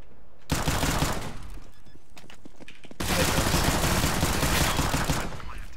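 Dense automatic gunfire in a shooter video game, two long rapid bursts separated by a short pause, loud and close.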